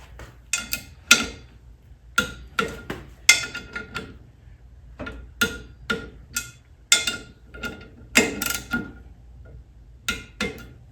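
Sharp, spaced clicks come from a torque wrench tightening flywheel bolts on the 1600 engine of a 1971 Volkswagen Beetle, each tick distinct and close in a quiet workshop.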